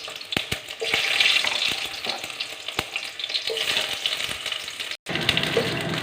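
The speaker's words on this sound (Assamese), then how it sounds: "এয়া মই তেলটো গৰম হোৱা যেন দেখিছোঁ। গতিকে মই পিঁয়াজখিনি দি দিছোঁ।" Onions sizzle and fry in hot oil in a pan for a home-cooked drumstick vegetable dish, a steady bright crackle with occasional stirring clicks, close and continuous with a brief cut near the end.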